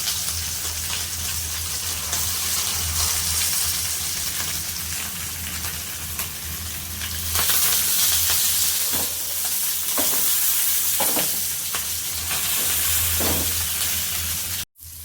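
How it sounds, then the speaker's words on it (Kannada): Bangda fish fries in a pan with a steady, loud, rain-like sizzle that never stops, a low hum beneath it and faint clinks of handling near the end. "ಫಿಶ್ ಫ್ರೈನ ಮಾಡ್ಕೊತಾ ಇದ್ದೀನಿ"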